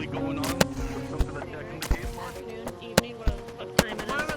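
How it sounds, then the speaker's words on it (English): Sharp gunshots crack in irregular succession over a couple of seconds, some louder and closer, others distant, with people talking in between. "Are you guys hearing the gunshots too, or is it just me?"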